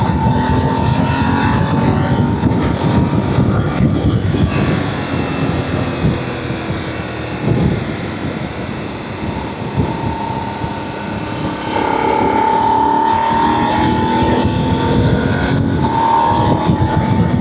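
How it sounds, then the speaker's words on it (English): Voge 900DSX motorcycle riding in sports mode, with a steady loud engine and wind roar and brief dips in tone as the quick shifter changes gears smoothly. "Quick shifter, very, very smooth. Lightweight down on the quick shifter as well."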